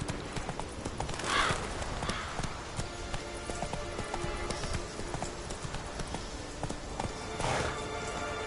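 Hooves of the horse Roach clip-clopping in a video game, a steady walking rhythm of close, distinct hoof strikes over a low ambient background.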